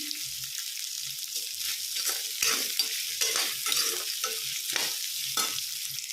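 Onions sautéing in oil in a pan for beetroot chutney, a steady crackling sizzle with intermittent scraping stirs and clinks of the spoon, close and fairly loud, with no talking.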